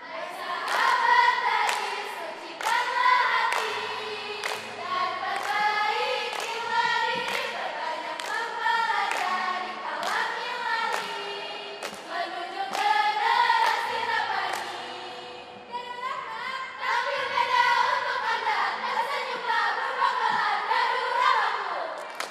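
Supporters of a contestant in a televised young preachers' competition chant a cheer in unison with sharp rhythmic hand claps, the studio crowd loud and close throughout.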